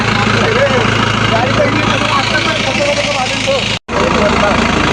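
A vehicle engine idles steadily near a marble-powder dumping yard in Kishangarh, Ajmer, a constant low rumble running under people talking, with one brief dropout near the end.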